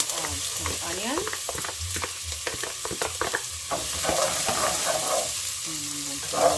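Onions fry in a hot pan for lentil bolognese, with a continuous sizzle and repeated stirring scrapes close by and a voice briefly speaking over it.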